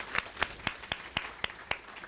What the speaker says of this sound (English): So round of applause to you.